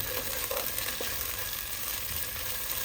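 Onions fry with ginger-garlic paste in a pan, giving a constant close sizzle with a few faint clinks and scrapes of stirring and no speech.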